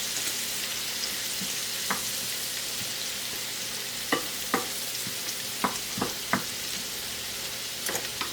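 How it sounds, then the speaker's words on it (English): Sliced garlic browning in one pan and leeks softening in another give a steady, moderately loud frying hiss, punctuated by several short scrapes and taps of utensils. "Our sliced garlic is in another pan just behind there, browning nicely."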